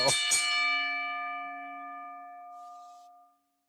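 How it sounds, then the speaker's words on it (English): A wrestling ring bell is struck twice in quick succession, then its bright metal ringing tone slowly decays to silence. "we're gonna ring that damn bell"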